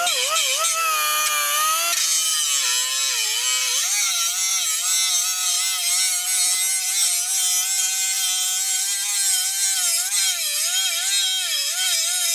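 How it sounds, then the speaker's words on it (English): Grinder working on weld joints of a roll cage in a driveway, a loud continuous high-pitched whine with wavering pitch and harsh broadband grinding noise throughout. "we just start off by grinding our weld joints"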